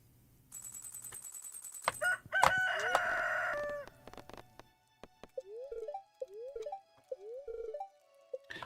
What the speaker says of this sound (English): Chickens are flying.